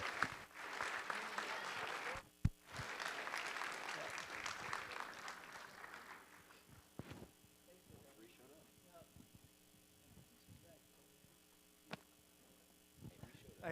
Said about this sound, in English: Please join me again in another round of applause.